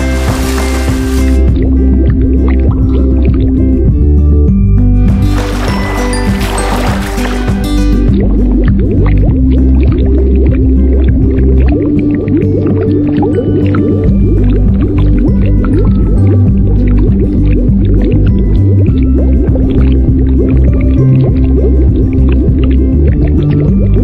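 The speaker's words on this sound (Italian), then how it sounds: "Dai George, ora immergiamo questo forziere nell'acqua." A toy treasure chest is pushed down into water in a children's cartoon, with loud bubbling, gurgling and sloshing that swells in two brief bursts amid a steady underwater rumble and music-like tones.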